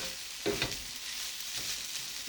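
Egg fried rice seasoned with soy sauce sizzles softly in a pan as it is stirred, a gentle, steady frying hiss broken by a couple of brief scraping stirs.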